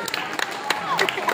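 Audience clapping at a school results-distribution prize ceremony: a brief, dense burst of applause with sharp hand claps scattered through it and voices mixed in.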